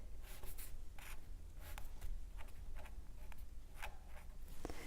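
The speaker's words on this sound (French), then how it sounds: "Une feuille sur laquelle vous allez dessiner un bonhomme allumette." Pencil or pen scratching across a sheet of paper while a stick figure is drawn, a run of short close strokes with brief pauses between them, quiet and steady with no talking.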